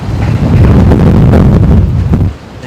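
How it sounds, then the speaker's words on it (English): Strong gusting wind at Brisbane Airport buffets the microphone with loud, rough low roaring that swells and holds, then eases toward the end, with no talk over it. "These gusts here are pretty full on."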